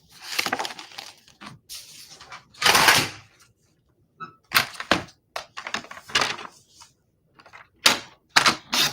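Paper being cut for a double-page scrapbook layout, a series of short, crisp snips and crunching strokes in bursts separated by quiet pauses, close and clear with no talking.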